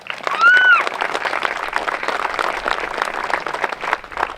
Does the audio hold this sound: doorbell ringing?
no